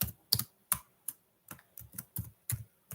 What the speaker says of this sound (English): I'll just type it in right here, Silver.